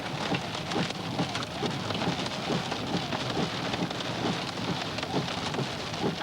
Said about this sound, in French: C'est ce qu'on appelle un orage violent.